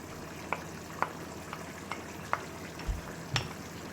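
Fresh ginger-garlic paste being stirred in a pan for a mixed vegetable curry, with a faint steady sizzle under a few distinct spoon scrapes and taps against the pan.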